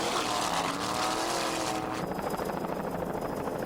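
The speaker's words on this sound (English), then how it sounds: "Wide Open is a 27-foot Cobra powered by one 650 horsepower Mercury engine with a Mercruiser drive" Engine roar from a 27-foot Cobra offshore racing powerboat with a single 650 hp Mercury engine and Mercruiser drive, in an offshore powerboat race off Fort Lauderdale in 1993. The sound is a loud, continuous high-revving drone whose pitch shifts partway through.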